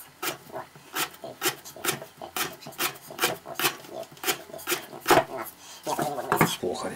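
A hand tool rasps through an X12MF steel bar in a rhythmic series of sharp back-and-forth strokes, each stroke a distinct scraping burst, close and fairly loud, with brief talk near the end.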